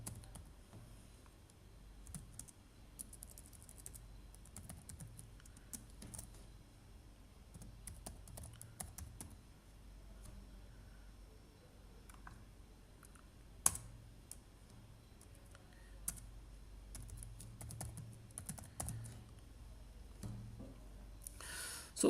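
Java while-loop syntax being typed on a computer keyboard: a steady patter of close, quiet key clicks running throughout, with an occasional sharper tap and no talking.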